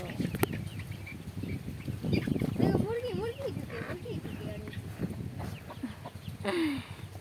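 Chickens cluck and call near the microphone, with a rooster's short crow-like cries among them as it attends a hen about to lay, while a person talks over the birds.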